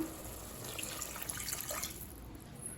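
About one and a half cups of water poured into a cooker of boiling coriander mixture for coriander biryani, a faint, steady splashing trickle under a low background hiss, with no talk.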